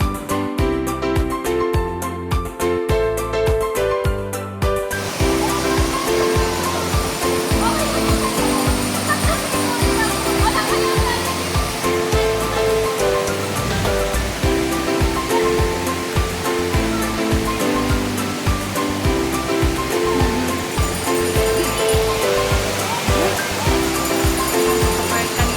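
Cascading water from a terraced waterfall at Paglitaw natural spring in Tanay, Rizal, a steady loud roar of rushing water that fills the whole stretch, with music playing over it.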